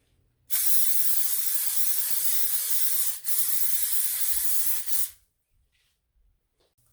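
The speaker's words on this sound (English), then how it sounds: "Spray the pan." Cooking spray hisses onto a pan in one steady close burst of about four and a half seconds, with a tiny break partway through, before silence returns.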